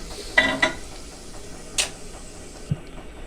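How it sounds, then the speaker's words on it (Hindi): Hot tempering (tadka) poured into a pot of cooked dal maash, a couple of sharp metallic clinks followed by a brief sizzle and faint scraping, fairly close and without talk. "हम अपनी दाल का तड़का लगाएंगे"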